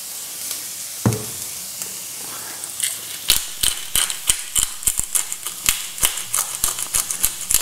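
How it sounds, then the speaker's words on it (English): A hand-cranked pepper mill grinds black pepper over a pan of frying onions, giving a run of sharp, rapid ratcheting clicks in uneven bursts over a soft background sizzle, loud and close, with no talking. "freshly ground black pepper"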